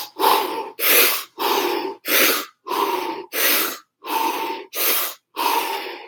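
Deep Wim Hof breathing: nine strong, rhythmic breaths in quick succession, each a loud, close, airy rush, evenly spaced with short silent gaps and no talk.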